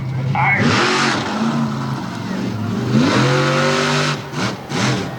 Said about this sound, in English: Bigfoot. Christian Norman getting some nice air on the backside now, headed for the tires.